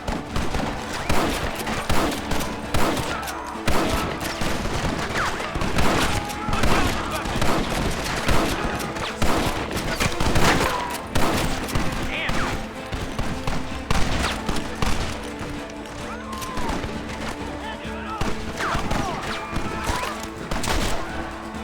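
Heavy gunfire rages through a Red Dead Redemption shootout, with dense, continuous volleys of rifle and pistol shots, crashes and impacts layered loudly for the whole stretch.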